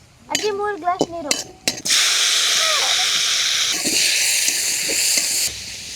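Water poured into a hot pan in a traditional village kitchen gives a loud, steady hiss of steam that lasts several seconds after a few short words of talk, then cuts off.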